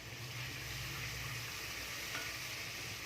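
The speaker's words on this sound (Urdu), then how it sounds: "اب ہم اس میں ایڈ کر دیں گے آنین اور لہسن کے اس پیسٹ کو ہم فرائی کریں گے 2 سے 3 منٹ کے لیے۔" Onion and garlic paste fries in a pan while a spoon keeps stirring it, giving a steady close sizzle with no break throughout.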